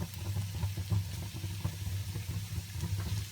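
Potatoes sautéing in a pan with turmeric and chili powder, a steady close sizzle and crackle of frying with faint stirring, continuous and fairly loud.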